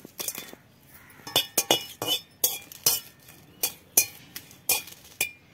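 Cumin, coriander and dried chillies dry-roasted in an empty pan, stirred with a utensil that strikes the pan in quick, bright clinks and scrapes, repeated irregularly and close-up, with no talking.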